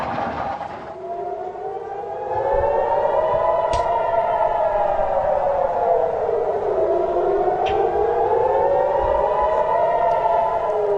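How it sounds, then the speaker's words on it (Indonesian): Air raid sirens wail in Ashkelon, Israel, during rocket interception, a loud sustained tone slowly rising and falling in long sweeps, with faint sharp knocks in the background. "Sirine bergema di kota Askelon, Israel kala militer mencegat roket-roket yang diluncurkan Hamas dari jalur Gaza"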